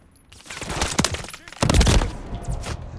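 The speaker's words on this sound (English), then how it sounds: "Heavy fire." Heavy gunfire in the Call of Duty MW3 beta video game, two dense loud bursts of rapid shots close together, with voices talking over the action.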